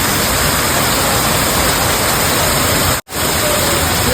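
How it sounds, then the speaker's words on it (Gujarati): Heavy rain roars as a dense, continuous hiss close by, broken once by a brief dropout before resuming at full strength. "જબરદસ્ત વરસાદ પડે છે"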